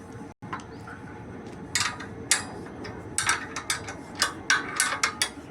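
Copper strip for a 33 kV isolator female contact (jaw) being clamped and bent in a bending tool, with a run of sharp metallic clicks and ratcheting snaps at a fairly close distance, spaced unevenly and growing more frequent toward the end.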